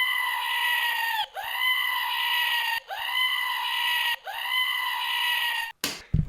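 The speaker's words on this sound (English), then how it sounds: "Can you please do the goat scream thing?" A goat screams in four long, loud, drawn-out bursts separated by brief pauses, with a short clatter at the end and no talking.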